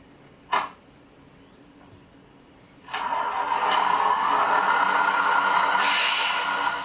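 A single click, then a simulated truck engine from a sound module in a model Mercedes Arocs tipper starts up and settles into a steady droning hum that continues loudly to the end.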